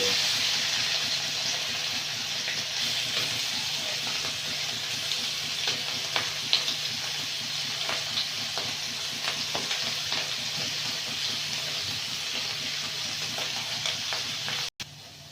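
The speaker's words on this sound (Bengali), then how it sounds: "চিংড়ি মাছগুলো ভেজে নেব" Prawns frying in hot oil in a kadai, a loud, continuous close sizzle and hiss with scattered crackles and occasional stirring clatter, no talking, cutting off sharply near the end.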